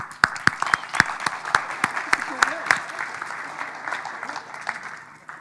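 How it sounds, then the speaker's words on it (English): A conference audience at an Agile Testing Days keynote applauds: a dense patter of many hands with a few sharp, close claps standing out, steady for several seconds before gradually thinning. "Let's give these folks a round of applause."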